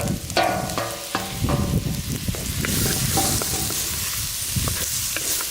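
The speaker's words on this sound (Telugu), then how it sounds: "ఈ టమాటాలు ఇలా మెత్తబడే వరకు బాగా వేయించుకోవాలి" Tomatoes with turmeric fry in a pan until soft, a close crackling sizzle mixed with clattering stirring strokes, denser early and steadier later.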